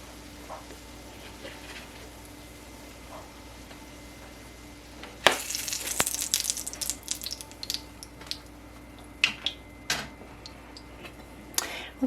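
Corn fritters fry in a pan, a faint low background that breaks into crackling sizzle and sharp spits and pops once the batter goes in, with scattered louder bursts continuing.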